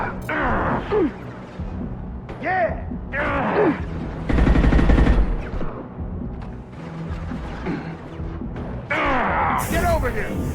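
Gunfire and combat noise in the video game Mass Effect 2: a dense burst of shots mid-clip amid explosions, electronic effects and groaning creatures, with voices speaking over the battle.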